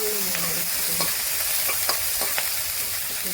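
Ground green chili paste frying with cumin in ghee, a loud continuous hissing sizzle close up with a few scraping stirs of a spoon in the pan, no talking.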